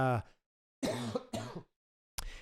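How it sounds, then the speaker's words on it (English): A short burst of voice, then a run of three harsh, close coughs with brief pauses between them. "I got a cough attack out of nowhere"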